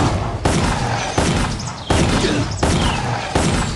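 Enemy bursting apart after dying in a cult-base video game fight, a rapid series of loud booming blasts and crashes, four or five heavy hits in quick succession with no talk.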